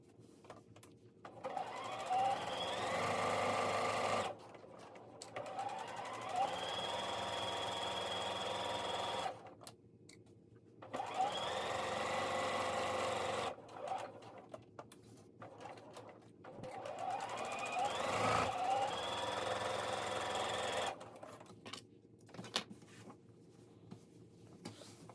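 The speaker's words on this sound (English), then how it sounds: "now we're going to run a 1/4 inch seam down this" A sewing machine runs a quarter-inch seam along a quilt block, stitching in three long steady bursts of several seconds each, with short quiet pauses between runs.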